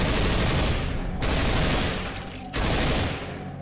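Loud, dense bursts of automatic gunfire from a zombie shooter video game, continuous rattling volleys broken by two short pauses.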